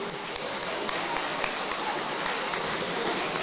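Dense applause fills the space at a regional sports awards event, many hands clapping together in a continuous, even patter from a sizable crowd.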